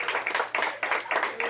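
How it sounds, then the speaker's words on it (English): An audience at a small bookstore event for a local cable show claps in a brief, uneven round, with voices mixed in over the applause. "Give her a nice round of applause, okay?"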